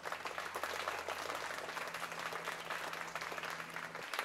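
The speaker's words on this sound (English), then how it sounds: "Can we all give her a huge round of applause?" Steady applause from a crowd fills the room, continuous and even for several seconds before cutting off.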